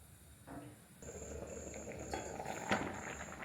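Prawn curry simmers in a covered pot, a soft bubbling and sizzling that grows busier after a faint start, with occasional small pops and a steady thin hiss, quiet and close.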